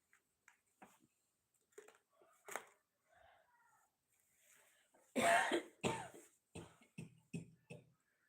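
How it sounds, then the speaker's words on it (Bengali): A mother coughs indoors near a baby playing with a new toy. Quiet, dry coughs and throat clearing come scattered at first, then a louder run of several coughs follows with short gaps between them. "আম্মু কাশি দিচ্ছে"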